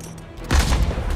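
Gunfire in the Marvel's Spider-Man video game: after a brief quiet moment, a loud, close burst of rapid shots erupts and keeps going as a dense volley.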